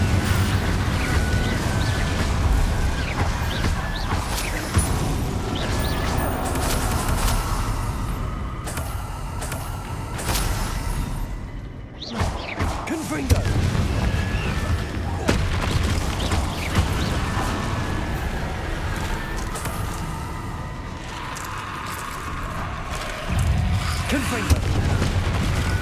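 Spell effects and explosions in the Hogwarts Legacy video game on PS5: dense, continuous booming blasts and crackling bursts, loud throughout, with a brief dip near the middle and game voices mixed in.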